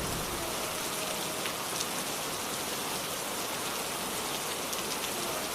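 Steady, dense rain pattering on a surface in an animated village story scene, a constant hiss of drops that stays even and loud throughout with no voices.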